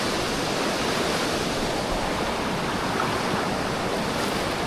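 Ghonsari waterfall at Kankavli, a steady, dense roar of falling water filling the whole clip, close and loud with no voices.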